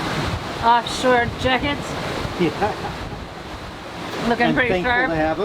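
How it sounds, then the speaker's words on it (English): Offshore sailing in a squall brings gusting wind buffeting the microphone and waves rushing against the boat, a continuous rough wash under close conversation. "First squall"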